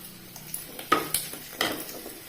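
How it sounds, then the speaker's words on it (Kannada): Mustard seeds spluttering in hot oil with crushed garlic and a cut chilli, a handful of sharp crackling pops scattered over a soft background sizzle, close by with no voices. "ಇವಾಗ ಸಾಸಿವೆ ಚಟಪಟ ಅಂತ ಹೇಳ್ತಾ ಉಂಟು"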